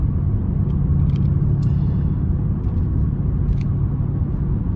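A manual Porsche Panamera S V8 exhaust in winter, a steady low, heavy rumble holding at constant level throughout with faint higher ticks over the top.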